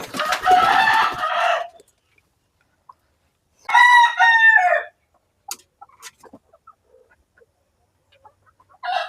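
Chickens on a farm: a rooster crows loudly and close twice, with soft scattered clucks and brief rustles between and after.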